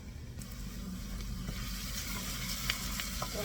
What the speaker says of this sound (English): stir your onions as they're gently sauteing